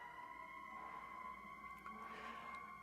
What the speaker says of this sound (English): Maybe that'll make this more memorable, those sirens outside.